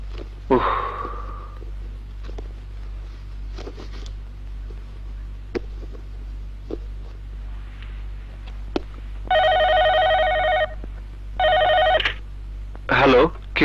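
A telephone rings at night in two long electronic ringing bursts near the end, preceded by quiet room sounds, a brief voice and small rustles and sniffs.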